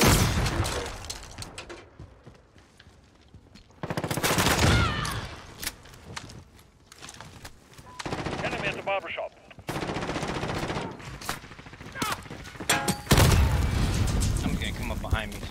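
Rapid automatic gunfire from a team deathmatch video game, with bursts of shots, loud impacts and explosive booms coming in clusters across the stretch while a player talks over the action.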